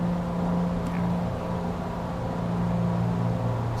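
Aircraft engine in a flight simulator game holds a steady droning hum throughout, its pitch edging slightly higher as the RPMs are pushed up a little, with no talk over it.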